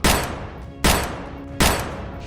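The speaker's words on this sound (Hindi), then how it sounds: "बहन से छेड़खानी करने वाले राकेश तिवारी को बीच बाजार में ही गोलियों से भून दिया।" Three loud gunshot blasts, each a sharp crack with a decaying tail, spaced evenly about a second apart, staged as a shooting in the middle of a market.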